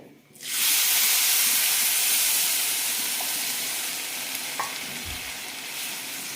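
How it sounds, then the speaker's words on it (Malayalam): Broken wheat for lapsi in a pot of about two cups of water rises into a loud, steady hissing seethe as it comes to a boil, sustained and close with faint bubbling ticks. "തിളയ്ക്കാൻ തുടങ്ങിയിട്ടുണ്ട്"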